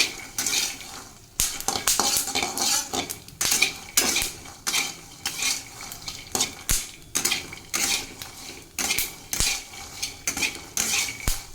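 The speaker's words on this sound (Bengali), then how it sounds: "বাদাম একটু লবণ আর তেল দিয়ে ভাজা করছি" Peanuts roast with salt and a little oil in a pan, rattling and clinking as a metal utensil stirs and scrapes them in a quick, irregular rhythm, close up with no voices.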